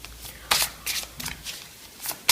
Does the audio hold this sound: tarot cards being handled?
yes